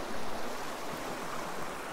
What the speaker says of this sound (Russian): Но теперь я понимаю, что это была река.